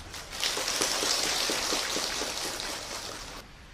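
Heavy rain pours down on a morning, making a steady wash of hiss with faint rhythmic patter, fairly close and with no voices, then easing off at the end.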